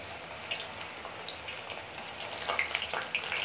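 Kondapindi greens pakodi frying in a pan of oil, a steady close sizzle with crackling pops that grow busier toward the end, no voices.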